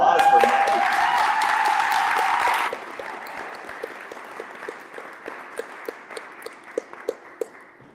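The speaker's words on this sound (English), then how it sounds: "let's give a warm round of applause for Maddie" Audience applause welcoming poet Maddie at a talk event, a dense round of clapping for about three seconds that then thins to scattered individual claps and taps.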